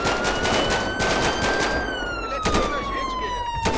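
Gunfire in the GTA 5 roleplay game, rapid bursts of shots in quick succession with a wailing police siren sweeping over them and game noise beneath.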